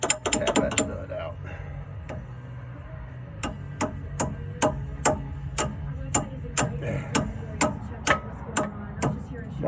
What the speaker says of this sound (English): Tap that nut out.